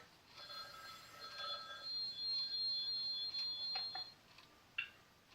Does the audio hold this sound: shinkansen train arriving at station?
no